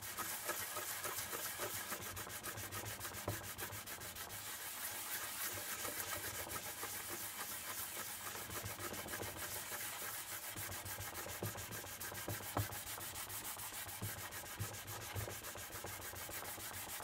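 Steady hand sanding on the old shellac finish of an antique wooden tea cart, a continuous close rubbing scratch with a constant rhythm, alone and sustained throughout.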